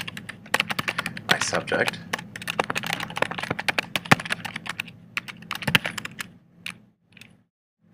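Rapid keystrokes on a computer keyboard clatter in irregular bursts, close and crisp, with a voice talking over parts of the typing before it tapers into a few isolated taps.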